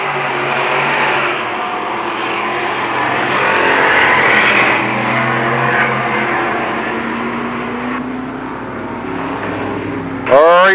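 Modified race cars at Lernerville Speedway, a dirt oval, roar past in a steady, loud engine drone that rises and falls slightly as they lap, with a sharp closer sound right at the end.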